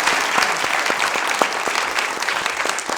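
Audience applause at an alternative dispute resolution symposium, many hands clapping in a steady, loud, continuous patter with a few sharper individual claps standing out.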